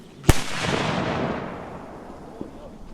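A single sharp bang from an Exploder 5 firecracker goes off nearby, followed by a long rumbling echo that slowly fades, with a faint pop near the end.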